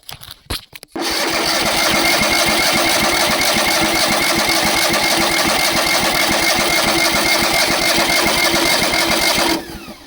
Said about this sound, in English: we're going to crank it and see if I can get the fuel pump to pump anything